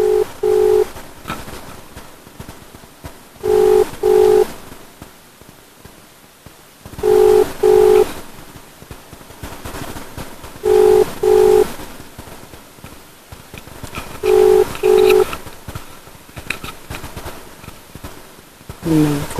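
A phone call rings out unanswered through a speaker, paired ringback tones repeating about every three and a half seconds, with background chatter and clatter in a suit boutique between the rings.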